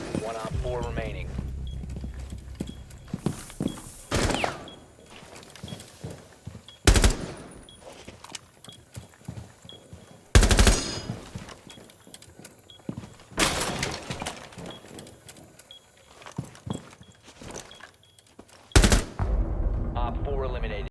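Back-and-forth gunfight in Rainbow Six Siege, with bursts of automatic gunfire and sharp single shots that trade off over about twenty seconds, some loud and close, others quieter, mixed with game noise and voices.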